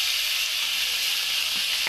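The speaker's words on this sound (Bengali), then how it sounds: "করলাটাকে ভালো করে ভেজে নেবো, একদম যেভাবে ভাজা হয়।" Bitter gourd fries in a pan with salt and turmeric, giving a steady, even sizzling hiss throughout with no voices.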